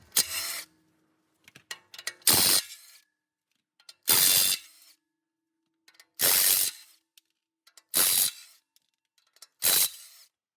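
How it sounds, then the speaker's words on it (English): A hand ratchet loosens the six flex plate bolts on a 1995 Ford F150 5.0L engine, close-up bursts of fast clicking repeated about every two seconds, each burst separated by quiet pauses and faint metallic taps. "it has 6 bolts right here that we will need to take off in order to remove the flex plate"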